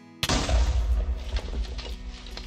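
Minecraft TNT detonating: a sudden loud boom with a heavy low-end rumble that decays over about two seconds, followed by scattered crackling debris.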